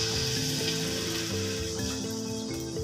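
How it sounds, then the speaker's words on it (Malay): Steady, dense sizzling of anchovy fritters frying in hot oil, close and continuous, with faint clinks and a low background hum. "Macam ni kita dah boleh goreng bila minyak panas."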